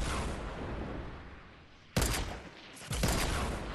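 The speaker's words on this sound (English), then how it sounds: "these guys are shooting rockets at us!" In a Fortnite match, rockets and gunfire crackle in dense bursts. A sustained barrage fades, then two sharp loud volleys break out in quick succession.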